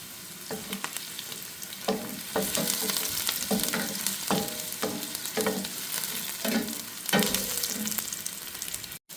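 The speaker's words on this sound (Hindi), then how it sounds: "और इसमें हम जो है वो चॉप्ड गार्लिक डाल लेंगे।" Chopped garlic sizzling in a pan with already sautéed onion, a continuous close frying hiss broken by regular scraping stirs, with no voices.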